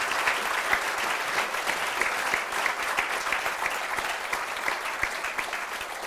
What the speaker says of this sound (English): will you please all join a round of applause for our wonderful panel members?